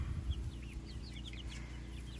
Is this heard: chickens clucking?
yes